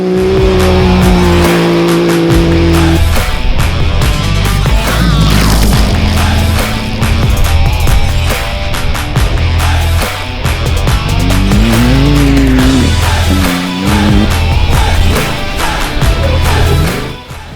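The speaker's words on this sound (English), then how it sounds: "the side-by-side pro class putting on some particularly close racing" Side-by-side pro class off-road race cars at Bencubbin 2022 roar loudly and continuously, engines revving up and down through gear changes as the close-running vehicles race past.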